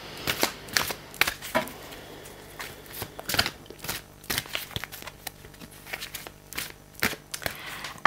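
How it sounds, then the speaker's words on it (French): Tarot cards being shuffled by hand, a run of quick papery riffles and soft slaps in uneven bursts, close and clear with no talking. "commençons par battre les cartes comme d'habitude"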